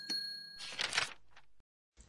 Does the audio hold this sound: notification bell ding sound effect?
yes